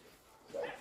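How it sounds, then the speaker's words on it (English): A farm dog gives a single short bark at another dog, fairly faint and brief at the end of a quiet outdoor moment. "He's barking at another dog."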